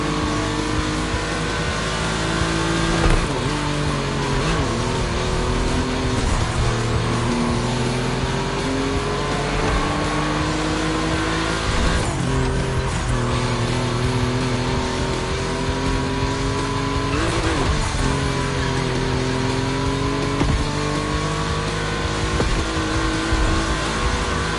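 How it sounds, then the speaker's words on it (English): Volkswagen race cars run on a track, their loud engines revving and shifting with repeated rising and falling pitch as they pass close by, continuous and without talk. "These cars on track, it makes me feel emotional."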